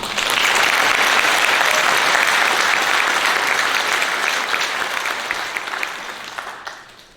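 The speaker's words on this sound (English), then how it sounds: "Let's give Sam Snoop Scoop a big round of applause for his excellent investigative report." An audience at a stage play applauds, loud full clapping from a crowd that holds steady and then tapers off toward the end.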